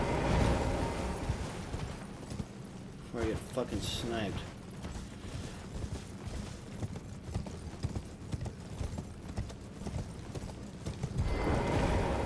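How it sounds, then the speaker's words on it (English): Horse hooves clip-clopping at a gallop in the Elden Ring video game, a steady rhythmic beat under a voice talking over it. "Come on, call in the horse."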